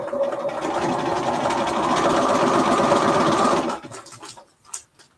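A sewing machine stitching a quilt Y seam runs at a steady, loud, close hum for about three and a half seconds, then stops, followed by a few soft clicks and rustles.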